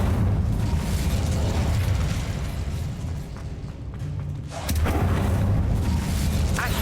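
An Incendio fire spell goes off in the Hogwarts Legacy game during a spider fight: a loud, sustained roaring burst with rumbling low booms, dipping briefly before a second surge of fiery blast.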